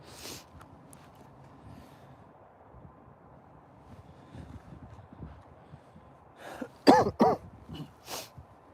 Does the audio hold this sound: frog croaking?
no